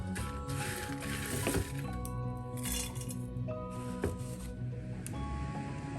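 Fried ginger whirring in a kitchen mixer grinder for a sadya ginger curry, a continuous close motor drone with clinking and rattling of the pieces against the jar, with short pauses and restarts.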